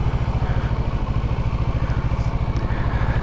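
A motorcycle engine chugs in a steady low rhythmic pulse as the rider slows down, close and fairly loud with no talk.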